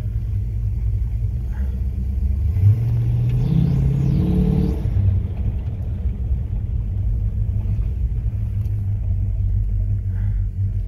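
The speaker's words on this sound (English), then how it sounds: "Boy, it runs really, really smooth with that fuel injection." A fuel-injected 1965 Chevrolet Impala with a 2-speed Powerglide transmission runs smoothly, giving a steady low engine rumble with a brief rev swell in the middle, heard up close and continuously throughout.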